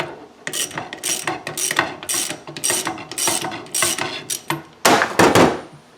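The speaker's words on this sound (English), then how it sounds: "Now we can undo our nut." Rapid ratchet clicking in repeated bursts, close and loud, as a ratchet undoes the steering wheel nut on a Land Rover Defender with a four-spoke wheel, ending in a heavier, denser run of clicks.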